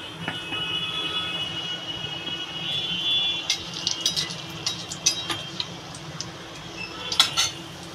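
Cut potatoes go into a pan for a Bengali egg posto malai curry, with a run of metallic clatters and scrapes of utensil against the pan, growing busier toward the end.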